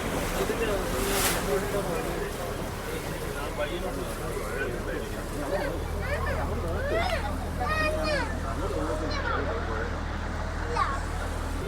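A shikara boat moves fast across open water on the Kottayam to Alappuzha route amid wind and splashing, with an engine hum joining partway and voices calling in the background.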